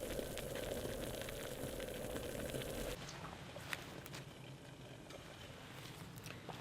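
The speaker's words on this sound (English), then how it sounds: "1 liter of water brought to a boil in roughly 10 minutes, 12 minutes, something like that." One liter of water on a Savotta bushcraft camping stove gives a steady, faint hiss and bubbling roar that drops slightly partway through, with no talk.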